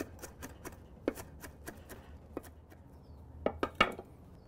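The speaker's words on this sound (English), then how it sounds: "We're just going to mince this on top of the garlic." A kitchen knife chops fresh Italian flat-leaf parsley over garlic on a board in quick, steady taps, with a faster cluster of sharper strikes near the end, close and fairly quiet.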